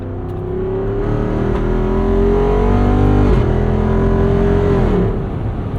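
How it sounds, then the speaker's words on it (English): Hemi engine of a 2024 Jeep Wrangler 392 Final Edition Rubicon with a ZF 8-speed automatic, shifted by hand: a loud, close, climbing engine drone that dips sharply at a gear change midway, then pulls again before easing off. "You get those snaps and snarls between changes, which you don't get when you leave the Jeep in automatic mode."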